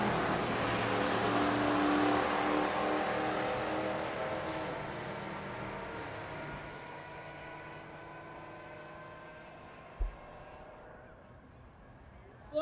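Camaro drag racing down the right lane at Rocky Mountain Race Week, a loud engine roar that fades into the distance over about ten seconds, with a brief thump near the end.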